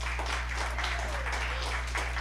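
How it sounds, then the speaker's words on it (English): Audience applause at an AI and DePIN summit in Manila, welcoming a speaker: an even, continuous wash of clapping over a low electrical hum, moderately distant. "Let's get things started with a big round of applause for Mr. Daniel."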